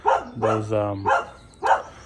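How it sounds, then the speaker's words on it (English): A pet dog barks a few times at close range, short sharp bursts mixed in with someone talking casually. "sorry about my dog"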